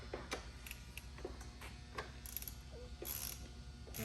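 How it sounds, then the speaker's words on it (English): A ratchet tightens the extended E-Torx bolts on a Mossleman oil thermostat, with quick bursts of close, crisp clicking in an irregular rhythm and no voices. "So now we'll grab our ratchet."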